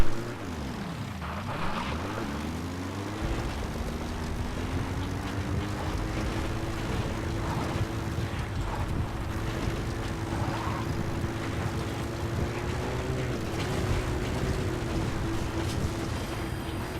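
A support helicopter arriving in the game Metal Gear Solid V, a steady droning rotor and engine hum with a pitch sweep near the start, then a sustained tone held throughout.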